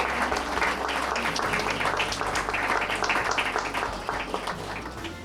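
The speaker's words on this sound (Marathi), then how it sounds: "जोरदार टाळ्या वाजवूया आपण" Steady applause from an audience at a Shravan-month recipe contest, honoring a top-five finalist; dense, sustained clapping fills the whole stretch with only a slight fade at the end.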